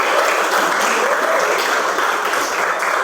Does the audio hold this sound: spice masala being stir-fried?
no